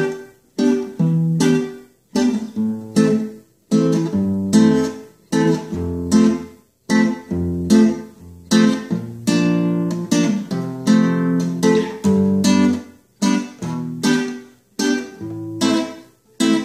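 Guitar chords strummed in a steady, rhythmic pattern, with short breaks between phrases; close and clear, no voices.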